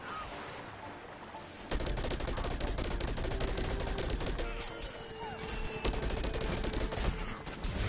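Rapid bursts of gunfire from the video game Plants vs Zombies Garden Warfare 2 start abruptly and stay loud and dense, with machine-gun-like rattling fire continuing almost without a break.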